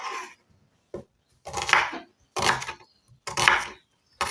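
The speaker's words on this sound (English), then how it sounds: "Now start cutting our onions." Red onions for beef biryani being sliced with a knife on a wooden board, several distinct chopping strokes with short pauses between them, close and crisp, with no talking.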